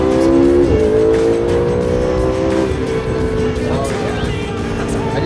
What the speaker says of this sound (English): I think it does have a Fab Speed exhaust, which opens it up quite a bit.